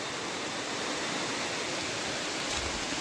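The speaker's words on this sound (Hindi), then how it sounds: "उनके कलकल की आवाज़ और झिंगुर की आवाज़ तो यहाँ पे रहती ही है।" The Narmada river flows steadily beside a forest hut, a dense continuous rush of water with a thin, constant high insect-like tone running through it, close and unbroken, with no voices.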